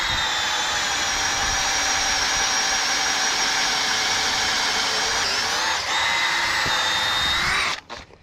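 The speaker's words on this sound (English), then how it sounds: "So I'm going to drill it right through and put in one that's got nuts on it." A power drill whines steadily at high speed for several seconds drilling through a gate fitting, briefly dipping under load, then winds down and stops.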